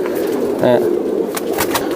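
Kaldom pigeons coo at a large pigeon farm, a short soft throaty coo rising over low crowd murmur and scattered background chatter.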